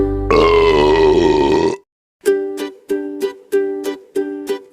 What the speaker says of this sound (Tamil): எலியார் ஏப்பம் விட்டாராம்.